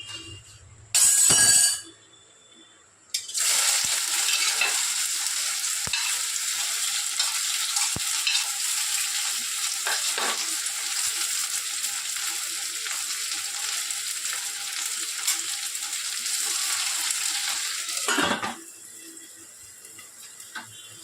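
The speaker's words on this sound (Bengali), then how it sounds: "এইভাবে সবজিগুলো ভেজে নিই এক এক করে" Bitter gourd, papaya, carrot and green plantain fry in oil with a loud, steady hiss that starts abruptly and holds for about fifteen seconds, with faint clinks of a utensil now and then, before cutting off.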